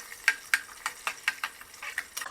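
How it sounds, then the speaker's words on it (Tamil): Chopped onions frying in hot oil, with a run of soft, evenly spaced scraping stirs over a faint, steady sizzle, close and fairly quiet. "முட்டி வச்ச வெங்காயத்தை இந்த எண்ணெயில் போடணும்."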